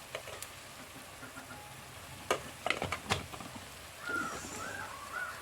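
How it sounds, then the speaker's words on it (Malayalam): Soybean masala curry is stirred in a pan after the masala powder goes in, giving a few soft scrapes and clinks over a faint sizzle, followed by a steadier frying hiss near the end. "നമുക്ക് നന്നായി ഇളക്കി പച്ചമണം പോണ വരെ"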